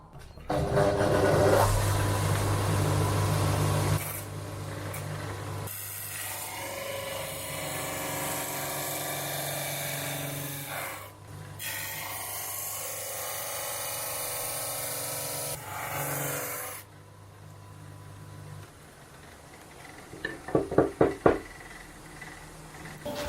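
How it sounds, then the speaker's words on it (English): Drum sander working a wooden guitar neck in long continuous stretches with brief gaps, a loud steady motor hum mixed with gritty sanding noise, then short clattering bursts near the end. "I'm using my my drum sander here, and I'm pushing it to here and then pulling it back."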